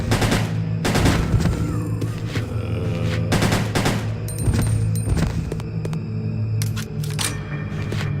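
Gunfire in Resident Evil: Code Veronica X, sharp loud shots fired in quick bursts and single cracks, spaced irregularly over a constant low hum.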